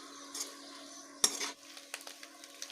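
Chopped fenugreek (methi) and garlic are stirred in a cooking pan with oil for wazwan-style methi maaz, producing a scraping clatter of a spoon against metal and a faint sizzle, with a sharp knock partway through.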